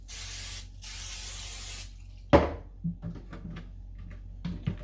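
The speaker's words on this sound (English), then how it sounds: "spray both the front and the back of the tortillas" Two long hissing bursts of olive oil cooking spray onto tortillas, followed by a sharp clatter and a few soft knocks and clicks.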